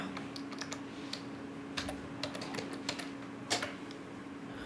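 Someone types code for an Android layout on a computer keyboard, irregular clusters of light key clicks with a few louder taps, close by over a faint steady hum.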